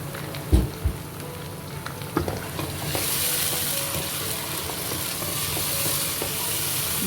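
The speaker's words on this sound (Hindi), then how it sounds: "चलिए अब मैं इसमें डाल दूंगी टमाटर" A peeled tomato drops into a hot pan with a few thuds and scrapes, then a loud, steady sizzle takes over and holds as the pan is stirred.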